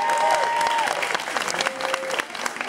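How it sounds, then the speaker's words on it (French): A crowd applauds and cheers for breakdancer Jerry at a footwork battle final, with dense, steady clapping and a loud whistle near the start. "faites du bruit pour Jerry, on peut l'applaudir"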